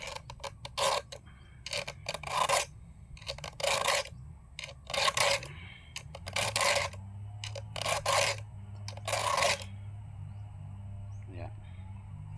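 A hand file rasps across the teeth of a chainsaw blade being sharpened, in bursts of several quick strokes separated by pauses, close and clear, with a low background hum.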